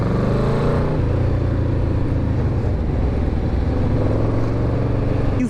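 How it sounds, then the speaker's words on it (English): A restored Yamaha Vmax V4 muscle bike engine rumbles steadily while being ridden, a deep continuous drone with slight shifts in pitch, close and loud throughout without speech. "You feel that massive engine underneath you. This is, of course, it's a V4. Oh my god, and it sounds great."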